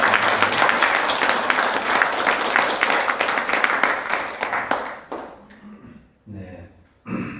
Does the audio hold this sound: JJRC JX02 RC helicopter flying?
no